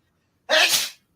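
A single sneeze bursts out sharply, close and alone, lasting under a second between stretches of silence.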